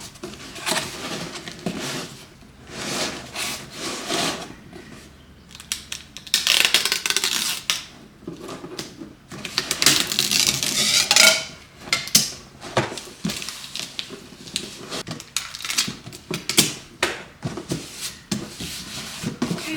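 An 8x8 cardboard box having its bottom folded and pressed into shape while packing art orders, with crinkly scraping and rustling, soft thumps and creases that come in uneven bursts close by, no talking.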